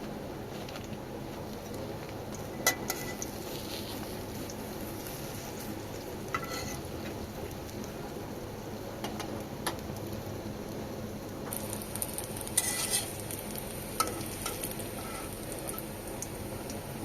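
Beguni, eggplant slices in gram-flour batter, frying in a shallow layer of oil: a continuous crackling sizzle with scattered louder pops and occasional utensil clicks, no voices.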